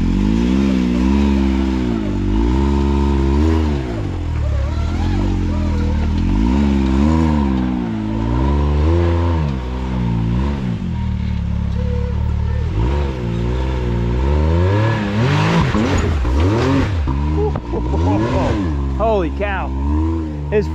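An off-road vehicle engine revs hard and loud as it climbs a rock obstacle at an OHV park, rising and falling in long throttle bursts, with voices talking over it.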